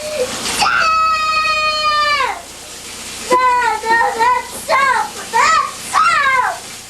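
A young girl with sensory processing difficulties screams loudly and repeatedly while being taken to a sink to have her hair washed, one long wail followed by a string of shorter, sharp cries.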